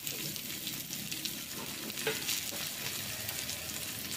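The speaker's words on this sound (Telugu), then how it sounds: "ఇప్పుడు ఇందులో నేను కట్ చేసుకున్న దొండకాయ వేసుకుంటున్నాను" Cut ivy gourd (dondakaya) frying in a pan and being stirred, giving a steady soft sizzle broken by a few faint scrapes and clinks of the spoon, with no talking.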